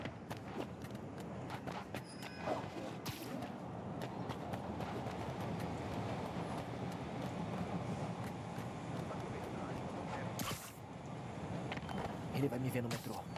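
A subway train rumbles past in the Spider-Man video game, a steady broad roar filling the scene with a brief brighter burst near the end, while game voices speak over it.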